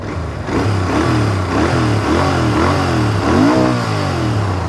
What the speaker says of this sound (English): with that, let's start the bike.